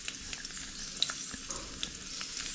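About ten cloves of sliced garlic sizzle and fry in hot oil over medium heat, a steady crackling hiss with small pops and occasional stirring clicks, close and with no talking.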